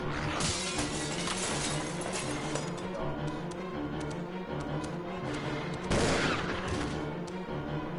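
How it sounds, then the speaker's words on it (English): Magnum revolver shots in the video game Resident Evil 0 ring out as heavy, booming blasts over a dense, continuous game soundscape, with a sharp louder burst near the end. "since we have the Magnum, super quick, super easy shots"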